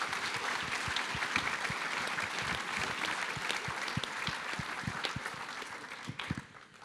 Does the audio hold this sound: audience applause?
yes